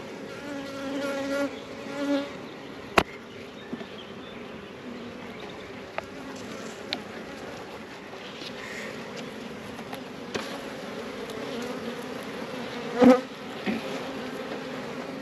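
Honey bees buzz steadily around an open hive during a spring inspection, a continuous close drone with a few sharper bumps and knocks as frames are handled.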